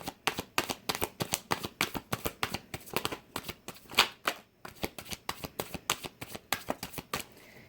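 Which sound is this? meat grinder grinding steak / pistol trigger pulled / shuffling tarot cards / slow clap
shuffling tarot cards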